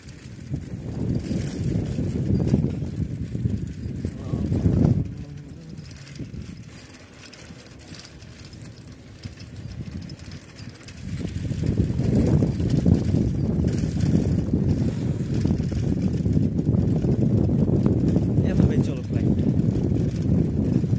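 Bicycle ridden at speed on a roughly 21 km road journey to Sherpur, heard as steady wind buffeting and low road rumble that grows rougher and louder partway through, with a voice talking now and then.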